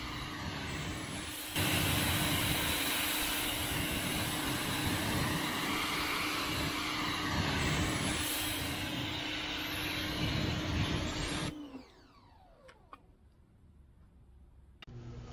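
A pressure washer rinsing a dirty Jeep after off-road driving hisses as a loud, steady, broadband spray for about ten seconds, then cuts out and leaves a quieter background.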